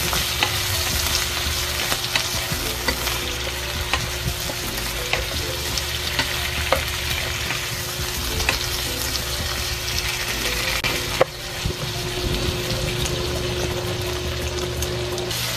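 Squash and string beans fry in a pan with a continuous close sizzle, and stirring clatters and scrapes come through now and then, including one sharp knock near the end.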